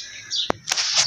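Pigeons just released outdoors on a hot, sunny day give short chirping calls, with a brief thump and some flutter among steady background hiss.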